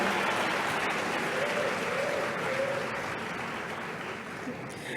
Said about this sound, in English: A round of applause for them one more time.